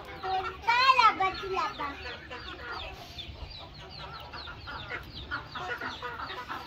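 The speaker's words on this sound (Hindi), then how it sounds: "आया मुर्गा।" Chickens, including young Aseel chicks, cluck and squawk close by with a louder burst near the start, mixed with children's voices and chatter throughout.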